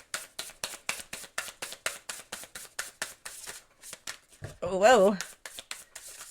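Rapid, rhythmic riffling of an oracle card deck shuffled close by, with a brief exclamation from a voice partway through.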